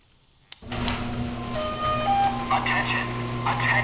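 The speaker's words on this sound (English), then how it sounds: "Garage door in motion. Stand clear." A garage door starts to open after a click, a steady mechanical motor hum and rumble continuing under a repeating electronic warning voice and tones.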